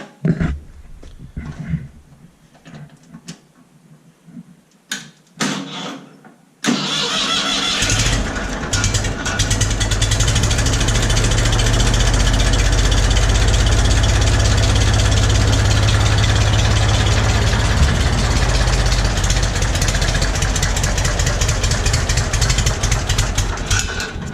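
Ford 4000 tractor engine cranks after a quiet stretch, then catches into a loud, steady, low rumbling idle that holds to the end.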